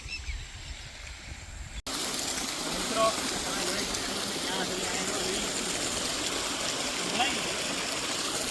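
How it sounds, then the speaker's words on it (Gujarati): Water flowing near the Dhareshvar dam: a steady, broad rushing roar that starts after a brief quieter opening and continues evenly, fairly close. "પાણીનો અવાજ આવે નકરો"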